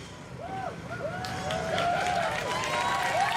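Outdoor crowd at a trans pride march in Melbourne clapping and cheering, a steady rising round of applause with scattered whistles and whoops, from a medium distance.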